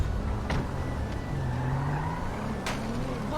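A cheap, beat-up car driving in GTA FiveM roleplay, a steady low engine drone with road noise, a rising whine partway through and a couple of faint clicks.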